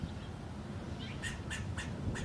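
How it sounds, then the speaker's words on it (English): Outdoors near an orange tree, a bird or squirrel calls out in a rapid series of four or five sharp, harsh squawks in the second half. The calls are moderately close over a low rumbling background. "I think the bird or the squirrel is yelling at my cat or dog"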